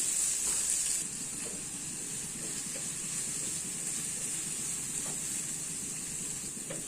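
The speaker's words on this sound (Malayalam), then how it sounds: "ഇനി നമുക്ക് കട്ട് ചെയ്ത് വെച്ചിരിക്കുന്ന സവാള ആദ്യം ഇട്ട് കൊടുക്കാം" Chopped onions for an okra stir-fry sizzle steadily in a hot pan, a constant loud hiss with faint stirring scrapes throughout.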